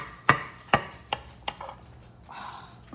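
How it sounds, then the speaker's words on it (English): A knife cuts into a fluffy baked berry dessert, giving four sharp taps against the plate or pan spaced about half a second apart, followed by a softer sawing scrape. "Okay, let's go ahead and cut into this."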